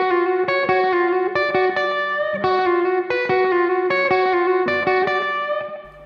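Electric guitar with distortion and chorus effect plays a quick hybrid-picked blues lick, repeated choppy notes with a short string bend, close and steady throughout.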